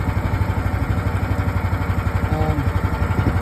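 A 2023 AGT Chinese mini excavator's small engine runs steadily at throttle, a loud, even mechanical chugging with a rapid regular pulse throughout.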